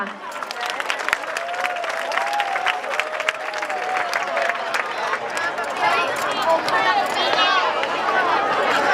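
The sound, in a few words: audience applause at school concert opening ceremony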